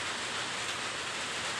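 Rain falling steadily, an even hiss of drops across the surfaces, constant and unbroken with no voices.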